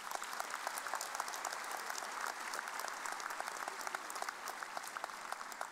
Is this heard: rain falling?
no